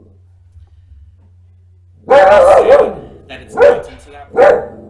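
A dog barks nearby in a few short, loud bursts, with people talking over the barks.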